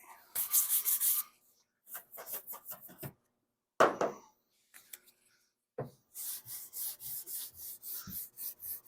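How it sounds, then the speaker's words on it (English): A brush scrubs gummed-up sandpaper clean while sanding the body of a 1976 Monarch classic car under restoration, giving close, rhythmic bursts of rasping strokes separated by short pauses. "get a brush, clean off the sandpaper"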